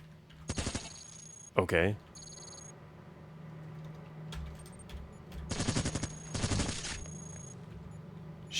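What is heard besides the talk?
submachine gun fire in the video game Cogmind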